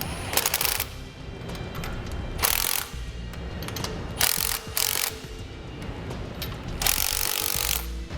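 A ratchet wrench tightens the U-bolts on a Dexter trailer idler axle in repeated bursts of rapid clicking. The bursts come close and loud with short pauses between them.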